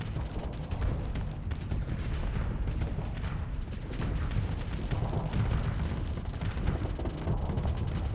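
Bombs explode in a space battle in the video game Starsector, a dense, continuous barrage of low booming blasts and crackling impacts that rumble together without pause.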